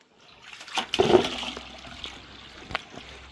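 Water gushes and splashes into a bucket for a few seconds, loud and close, with a brief clank near the end.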